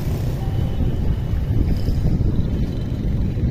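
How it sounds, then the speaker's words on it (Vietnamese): Wind blowing outdoors along a street near the Nhat Tao electronics market in District 10, a loud, steady low rumble buffeting the microphone, continuous throughout with no voices. "gió rất mát."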